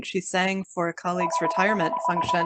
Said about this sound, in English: I'm so sorry, that's my phone.